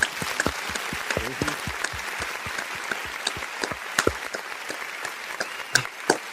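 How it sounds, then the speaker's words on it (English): An audience applauds steadily, a dense patter of clapping with a few sharper, louder claps standing out near the end. "can we get an applause for both of them?"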